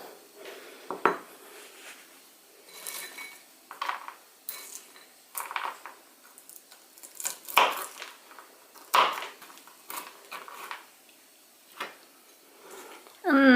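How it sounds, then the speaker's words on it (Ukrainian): Quiet kitchen sounds: a knife cuts dried walnuts in half on a board with scattered light taps and clicks, irregular and close by. "Волоський горіх, я його підсушила на сковорідці, е, не буду міленько нарізати, переріжу тільки на половинку"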